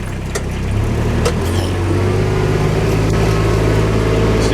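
A Jeep in 4-wheel drive pushes through mud, its engine loud, steady and close for the whole stretch, with a slowly rising drone.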